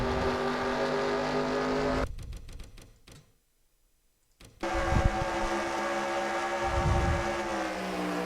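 Race cars in the NASCAR Racing 2003 video game, a loud steady engine drone that cuts out into a short silent gap midway and then returns with roaring passes.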